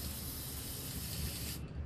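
A spray paint can hisses steadily, close up and alone, as paint goes onto a custom generator exhaust on a cube van, and the spray cuts off just before the end.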